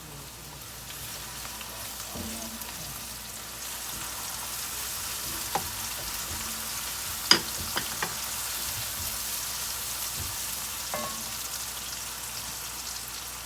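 Garlic paste hitting lightly browned onions in a hot pan makes a faint, steady sizzle, broken by a few sharp pops and taps about halfway through, with no voices.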